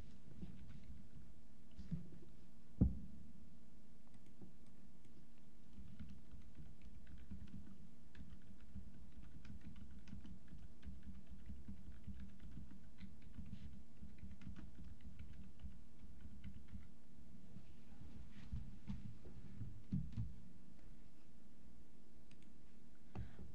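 Keys tapped on a computer keyboard while a place name is entered into a mapping program, light scattered clicks spread over a low steady hum, with one sharper tap near the start and a few more later.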